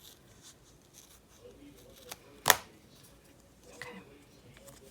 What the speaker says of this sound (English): I think I'll have to cut off more of this border here.